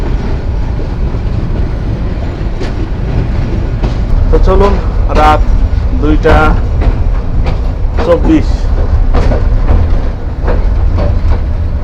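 The Jamuna Express train rumbles steadily at night near Sarishabari station, with rhythmic rail clatter throughout and someone speaking over the running noise.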